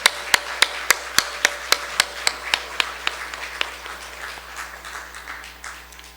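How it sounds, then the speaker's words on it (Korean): A church congregation claps in thanks during a Sunday afternoon service: a dozen sharp, loud, evenly spaced claps in unison, then a softer, scattered patter of applause that fades out. "하나님께 영광의 박수를 한번 더 올립니다."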